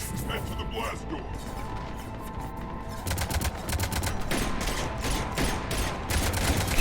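Heavy cannon fire from a Mass Effect 3 battle pounds in a rapid, continuous barrage, loud and close, building into a denser rattle of blasts and crashes midway as a voice speaks over it.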